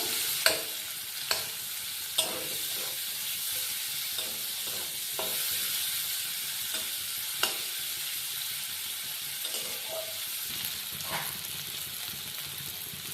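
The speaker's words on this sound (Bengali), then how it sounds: "এই তেলের মধ্যে দিয়ে দেবো কুচিয়ে রাখা পেঁয়াজ। পেঁয়াজগুলো একটু লাল লাল করে ভেজে নেব।" Onions sizzle steadily in hot oil, with a few sharp clanks of a spoon against the pan scattered throughout.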